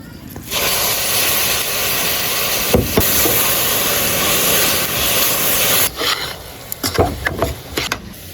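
Boiled raw papaya dropped into hot caramel, a loud sustained steamy hiss and sizzle up close that breaks into sputtering pops and scraping toward the end.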